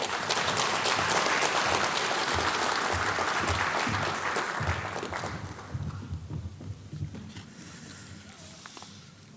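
Audience applause welcoming a speaker at the JITTI-APTA rail symposium in 2024, a sustained roomful of clapping that holds steady and then gradually thins and fades.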